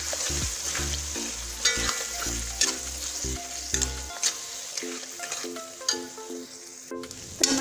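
Five eggs scrambling in a hot pan for egg fried rice, crisp sizzling with regular spatula scrapes and taps, the low frying roar dropping away midway while lighter clicks and stirs continue.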